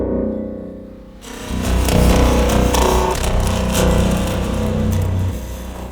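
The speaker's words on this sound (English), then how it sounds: "Here's a bowl of cornflakes." A bowl of cornflakes run through a Red Panda Context 2 reverb pedal swells after a quiet second into a loud, dense, washy crackle that sustains to the end.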